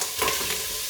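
Bolognese sauce sizzling steadily in a pan as pepperoni goes in, a close, even frying hiss lasting under a second.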